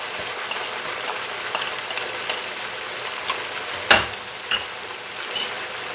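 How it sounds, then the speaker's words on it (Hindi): Chicken karahi fries with salt, garlic and ginger in a pan, a steady soft sizzle broken by several sharp stirring scrapes and clinks of a spoon against the metal, close and fairly quiet, with no voices. "अब नमक लहसुन अदरक के साथ फिर इसको दोबारा 2-3 मिनट के लिए फ्राई करेंगे"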